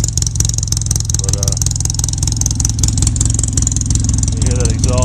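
A 2012 Polaris Ranger 800 XP utility vehicle runs steadily with a loud, close, throbbing exhaust drone that stays continuous throughout, with no talk over it.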